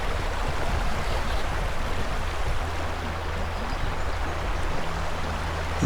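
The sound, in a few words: wading across a river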